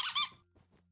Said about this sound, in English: This duck right here, it squeaks.